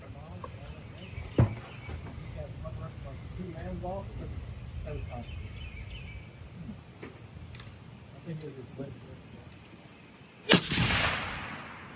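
A Browning Mini Midas .308 rifle fires a single sharp, loud shot near the end, following a stretch of people talking over faint ambient noise.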